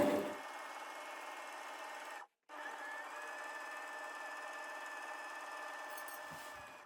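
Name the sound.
sewing machine stitching pin tucks on a blouse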